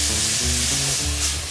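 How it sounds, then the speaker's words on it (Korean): Vietnamese chili and minced garlic stir-frying in hot oil for a spicy Chinese-style jjamppong, a dense continuous sizzle close up, with no talk. "잘 볶아졌다 생각되면 간마늘 두 숟가락 정도 넣어주시면 돼요."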